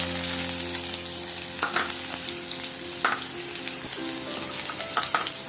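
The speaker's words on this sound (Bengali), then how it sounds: "এখন আমি 5 ফোড়নটা দিয়ে দিচ্ছি, আর শুকনো লঙ্কা আর পেঁয়াজ।" Panch phoron, dried red chili and onion sizzle steadily in hot oil in a home kitchen. A constant crackling hiss is broken by a few sharp clinks and scrapes of stirring, close and fairly loud.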